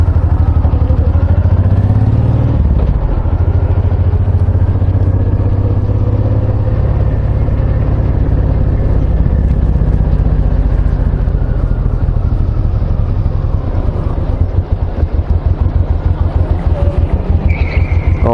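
Honda VTX1800 cruiser motorcycle riding along, its big engine a loud, steady low rumble throughout with wind noise, briefly shifting pitch early on and turning choppier near the end.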